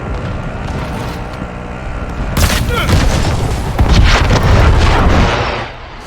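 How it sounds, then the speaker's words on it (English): Precision airstrike explosions in Call of Duty Modern Warfare, a burst of heavy booming blasts and rumbling impacts breaking in midway over steady battlefield background noise, with game voice announcements around them. "Allied precision airstrike incoming."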